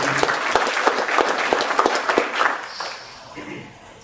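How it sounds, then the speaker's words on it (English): A conference audience at the IBO USA 2018 billboard-industry event in Columbus, Ohio gives a round of applause: dense, close clapping with sharp individual claps that thins and fades away over the last second. "Maybe you start with a round of applause for them."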